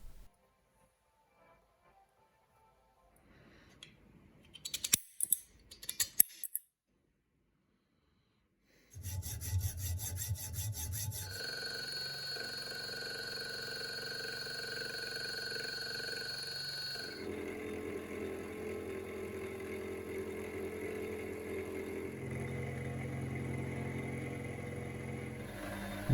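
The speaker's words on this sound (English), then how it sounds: "Cutting the thread for the clamp lever." Thread being cut for a mini lathe clamp lever: a few faint scrapes and clicks, a pause, then a long steady grinding, whirring run of machining that changes pitch partway through.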